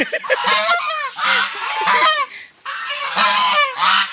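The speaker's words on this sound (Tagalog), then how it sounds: "Ito yung lalaki na gansa" Geese honk loudly and close by on a rural farm, in repeated harsh, nasal calls that overlap in a noisy chorus with only brief pauses.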